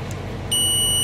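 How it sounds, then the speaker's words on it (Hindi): A multimeter on its continuity setting starts a steady, shrill electronic beep halfway through and holds it without a break until the end. "बीप आएगी अगर कंटिन्यूटी होगा।"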